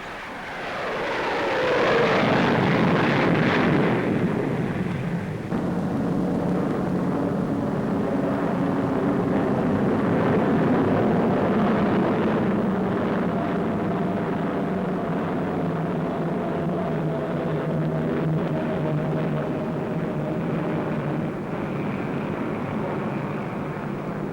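Avro Vulcan delta-wing bomber flying over the Farnborough airshow: a loud jet roar swells in the first seconds, then settles into a steady, heavy drone that carries on to the end with no talk.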